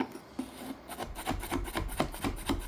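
Metal scraper dragged across a tabletop to lift off wood veneer, a run of rough rasping strokes in an uneven rhythm, close and moderately loud with no talk.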